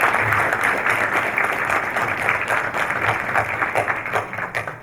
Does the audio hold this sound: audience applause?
yes